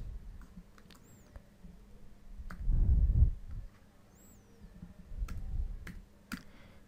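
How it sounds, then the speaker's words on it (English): Typing on a Windows 10 computer keyboard: sparse, faint key clicks and taps at close range in a quiet room, with a couple of louder dull thumps. "For example, I am typing"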